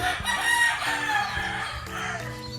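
Roosters and bullstags crowing in a Batangas gamefowl yard, several loud overlapping crows close by with clucking beneath, one call following another without pause.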